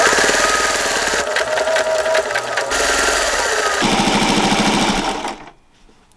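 A heavy-duty sewing machine stitching through thick layers of a quilted pot holder, a loud, steady mechanical whir with rapid needle ticking that shifts pace a few times before stopping abruptly near the end.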